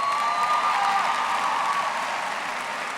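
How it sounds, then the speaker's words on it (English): Applause from the audience at a 2016 high school graduation ceremony, a broad wash of clapping that starts full and gradually tapers off, with a faint tonal whine running through it. "a round of applause"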